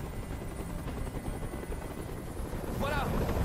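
Helicopter in the video game Detroit: Become Human, a continuous rotor roar that swells slightly near the end, with a brief voice breaking in over it.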